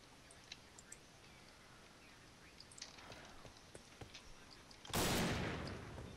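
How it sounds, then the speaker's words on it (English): Sniper rifle shots in a shooter video game: a few small sharp cracks over a steady hiss, then one loud broad blast that decays slowly, with no talk. "I'm gonna snipe."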